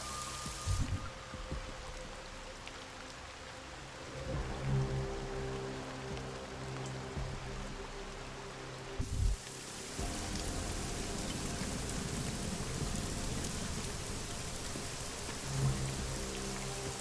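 Rain falling steadily in Prague, a continuous hiss of drops on surfaces that grows fuller after a brief shift partway through, with low rumbling and occasional bumps underneath.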